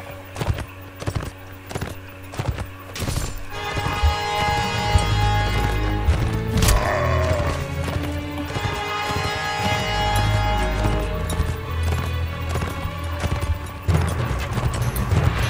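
Rapid horse hoofbeats in the game Mount & Blade pound steadily over a busy layer of game sound effects and clatter, with a brief crash in the middle.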